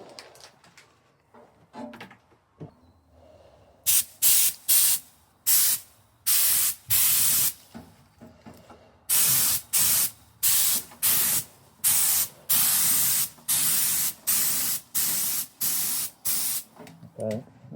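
A small spray gun laying primer onto the slam panel of a TVR Chimaera Turbo, struggling to push the primer out: a long series of short, loud hissing bursts in a steady on-off rhythm, close by with no talk.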